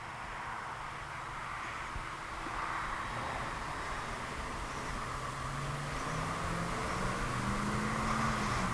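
E-flite Viper 90mm electric ducted-fan RC jet climbing after takeoff, a steady airy turbine-like whoosh with a rising whine, moderately distant and sustained throughout.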